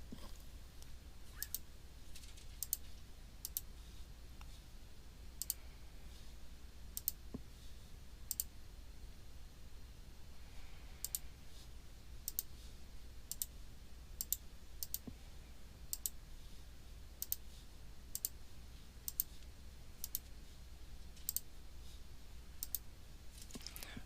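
Sparse, sharp clicks of keys being pressed on the LI-6800 photosynthesis instrument while an equation is entered, spaced irregularly over a quiet low hum with no speech.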